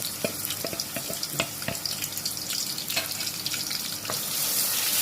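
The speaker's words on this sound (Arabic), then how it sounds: "بشرب بصلايه عشان نعمل حبه رز جنبها" Onion sizzling and frying in a pan as the first step for a spiced basmati rice with curry and turmeric, a steady crackle with scattered sharp pops and clinks, growing a little louder toward the end, with no voices.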